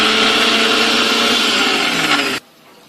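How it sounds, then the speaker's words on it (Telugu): A kitchen mixer grinder whirs loudly and steadily, blending spices such as cumin, poppy seeds, cloves, ginger and cinnamon with coconut and garlic for mushroom curry, then cuts off abruptly near the end. "సో ఇప్పుడు మిక్సీలో మనం రుబ్బుకుంటాం."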